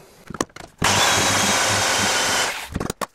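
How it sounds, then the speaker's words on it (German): A power sander whirs steadily against the front of a wooden drawer for about two seconds, starting and stopping abruptly, with a few knocks before and after. "Und jetzt schleife ich noch die Vorderseite."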